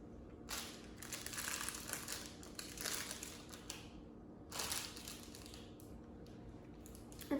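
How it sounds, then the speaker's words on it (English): Sterile IV supply packaging being opened by hand, close crinkling and crackling of plastic and paper wrappers in several bursts with short pauses between them, over a low steady hum. "now I'm going to open all of my packaging using aseptic"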